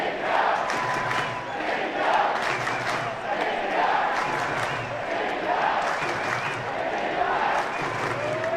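A large cricket crowd at The Kia Oval during the fifth England v India Test, day four, roars and chants in continuous swelling waves, loud and dense throughout.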